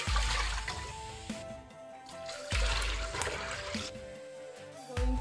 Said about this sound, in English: I'm going to put some more water and fill it up.